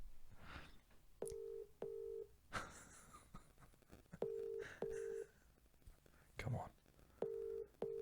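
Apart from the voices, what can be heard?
phone call dialing and ringing out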